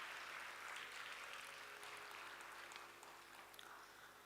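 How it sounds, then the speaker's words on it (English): Audience applause at a Bharatanatyam arangetram, greeting a flute artist who teaches students, a steady dense wash of clapping from a large seated crowd throughout, moderately faint. "Let's have a huge round of applause for Sri Uma Venkateshwaralu Garu."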